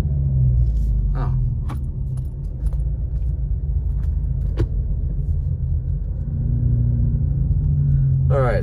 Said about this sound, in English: We're just driving through some of the back neighborhoods here.